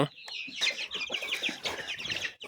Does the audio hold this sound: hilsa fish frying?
no